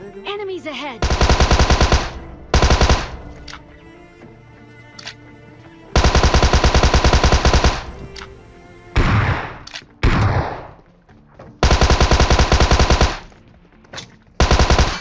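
Machine gun fire in a survival shooter video game comes in loud, rapid bursts separated by short pauses, with a few single booming shots between the volleys.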